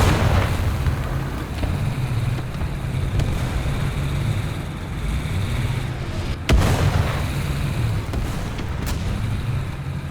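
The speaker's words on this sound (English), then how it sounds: "they've called artillery on me" Artillery shells burst and rumble in the War Thunder tank game. A loud, continuous low roar carries a few sharp booms that stand out, with one strong crack near the middle, and no voices.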